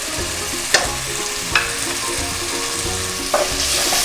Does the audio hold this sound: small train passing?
no